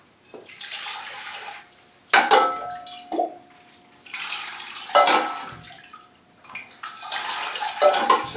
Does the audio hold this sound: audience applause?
no